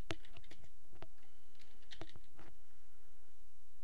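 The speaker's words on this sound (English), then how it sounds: "I can type in my welcome" Someone types on a computer keyboard, producing sparse, irregular keystroke clicks that are quiet and close, with short pauses between bursts and no voices.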